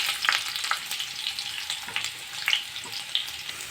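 Onions sizzle and crackle in hot oil in a pan, a steady close frying hiss broken by brighter pops and occasional stirring scrapes, with no one talking.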